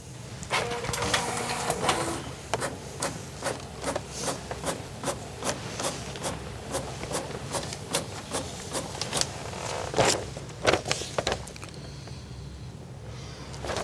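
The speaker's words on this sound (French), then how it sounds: "Je vais imprimer votre séjour." A printer in a travel agency shop prints out a booked trip, a busy run of rapid clicking, whirring and paper-feed rattles, moderately quiet and fairly close, with no talking.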